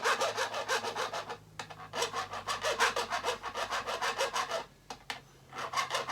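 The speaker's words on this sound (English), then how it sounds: "it's hitting those burrs when it kind of makes the grind" A file rasps back and forth over burrs on the metal frets of a guitar fretboard, in quick, rhythmic strokes close by with brief pauses.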